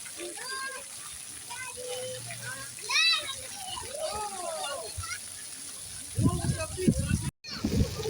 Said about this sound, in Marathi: मुलं सगळे पाण्यात भिजत आहेत त्याच्यामुळे इकडे जरा कमी गर्दी आहे